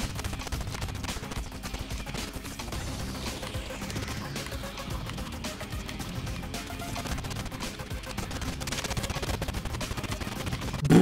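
Rapid SMG gunfire from Fortnite Chapter 3, a dense continuous game mix of shots, impacts and effects at steady level across the whole stretch, with a sharp louder hit at the very end.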